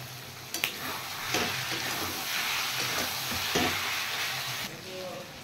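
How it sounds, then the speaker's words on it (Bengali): Mutton frying in a pan with spices and chopped tomatoes, a steady close sizzle with a few sharp stirring scrapes and clacks throughout. "এবার আমি এগুলো একটু ভালো করে মাংস সহ মশলাটা কষিয়ে নেব"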